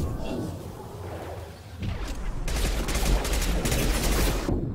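Rapid submachine-gun fire in the sci-fi shooter Mass Effect 2, with dense bursts of automatic shots and impact crashes that grow louder in the second half over a rumbling game soundscape.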